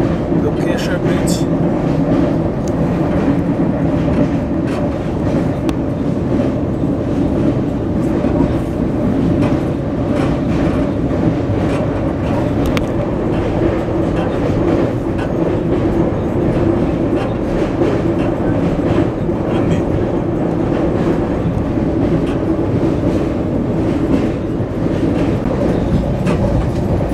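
The Darjeeling Mail rolls past Baliaghat near the Dakshineswar bridge, a loud, continuous heavy rumble and rhythmic wheel clatter heard from inside the train without letup.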